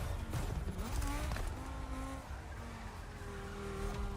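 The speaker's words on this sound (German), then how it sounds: "Kommt doch kaum rum, die Karre." A race car in the video game The Crew Motorfest, played on PS5 Pro, revs and squeals its tires while cornering hard, engine tones rising and falling continuously with no talk.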